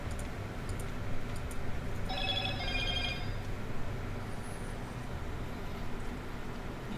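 A telephone rings inside the video game Armikrog, a short electronic ring lasting about a second and a half over a steady, noisy background. No talk is heard.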